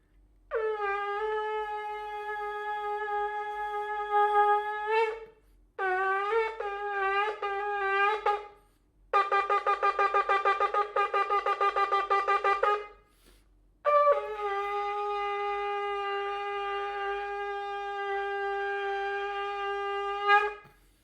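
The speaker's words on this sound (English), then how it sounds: "when you blow the shofar on Rosh Hashanah" Shofar blasts in the Rosh Hashanah Tekiah, Shevarim, Teruah sequence: a long sustained horn note, three short broken calls, a rapid staccato run, then a final long note, loud and close.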